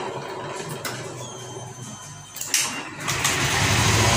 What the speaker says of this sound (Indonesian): motor sudah menyala